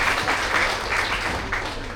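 Lecture audience applauding, a soft, brief patter of clapping heard from a distance in a hall.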